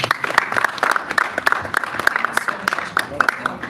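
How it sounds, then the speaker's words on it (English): Scattered clapping from a small audience at a live makeover event, with sharp individual claps rising above a background of murmured voices for a few seconds. "So a round of applause, please."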